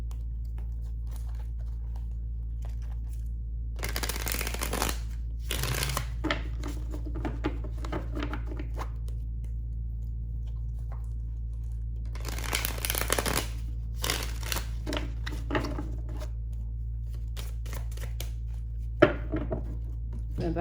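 Bursts of crisp papery riffling from tarot cards being shuffled, coming in a few separate runs over a steady low hum, with quiet gaps between.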